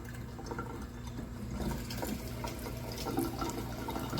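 Water runs in a steady stream from a faucet after galvanized pipe work on a relocated water heater, a soft continuous rush that is fairly quiet and unbroken.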